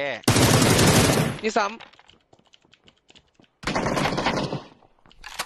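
Bursts of automatic rifle fire in the shooter game PUBG, two loud, rapid volleys separated by a quieter stretch, with players talking over the action.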